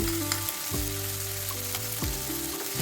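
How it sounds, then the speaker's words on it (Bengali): Spices with ginger, garlic and green chili paste frying in a pan over a medium gas flame, a steady close sizzle with a low hum and faint stirring taps. "এই মশলাগুলোকে ভালো করে ভেজে নিতে হবে"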